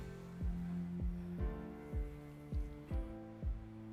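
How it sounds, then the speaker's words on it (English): Heartbeat sound effect in a cast recording: about seven deep, evenly spaced thumps sit under sustained musical tones, steady and fairly loud throughout. "Got that heartbeat coming in again."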